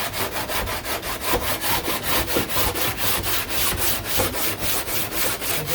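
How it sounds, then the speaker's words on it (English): A hard sanding block levels body filler on a 1969 Corvette C3 diffuser in rhythmic back-and-forth strokes, a close raspy scraping that repeats about three times a second, steady and alone. "So I'm just going to take the hard sander"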